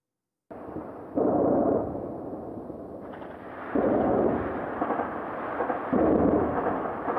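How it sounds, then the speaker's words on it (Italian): Deep, rumbling booms from explosions and fighting in Kyiv at night come in heavy, sustained waves, with three louder surges over a continuous low roar. No one speaks. "La notte di Kiev ha il suono delle esplosioni e dei combattimenti"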